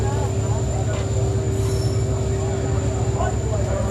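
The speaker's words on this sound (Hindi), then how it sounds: "ट्रेन जो है 5 मिनट रुकने के बाद यहाँ से निकल चुकी है" A general class passenger train pulls out of Nagaur station after a five-minute halt, giving a loud, steady rumble with a sustained tonal hum and a brief wheel squeal. Faint voices can be heard underneath.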